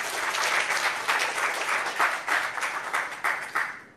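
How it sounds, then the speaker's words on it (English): An audience at an AMD Azadi Ka Amrit Mahotsav webinar event applauds a speaker with dense, sustained clapping that rises and falls in short surges before trailing off. "let us give once again a round of thunderous applause"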